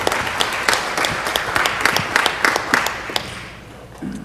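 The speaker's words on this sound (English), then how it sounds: "Let's give our autism children a round of applause." Audience at a city council meeting clapping for children with autism, with distinct individual claps, moderately close, in a lively burst that thins and fades out toward the end, followed by a faint murmur.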